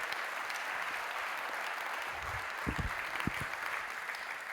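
An audience at an annual conference for real-estate directors applauds, a steady wash of clapping from a sizeable crowd that holds evenly throughout at moderate loudness.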